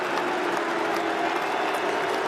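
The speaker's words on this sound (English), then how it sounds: "now Lord's crowd greet Steve Smith, who will resume his innings to a great ovation" Lord's cricket crowd in England v Australia Test applauding Steve Smith as he resumes his innings, a steady, dense wash of clapping filling the ground with faint cheers mixed in.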